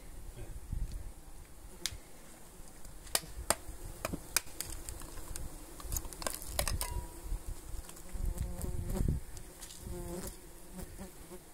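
Rare cupira stingless bees buzz steadily at a meliponary, a close, continuous insect drone broken by faint sharp clicks and taps and heard alone without speech.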